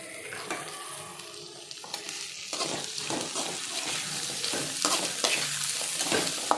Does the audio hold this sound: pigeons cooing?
no